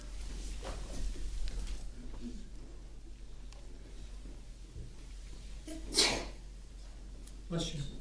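A single loud sneeze breaks the quiet of a courtroom during a trial, preceded by faint talk and low background hum, with a second smaller sound shortly after.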